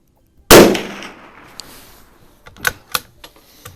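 A Savage Model 93 .22 Magnum bolt-action rifle with a Boyds stock and AccuTrigger fires one loud, sharp shot outdoors. A short decaying echo follows, then a few crisp mechanical clicks.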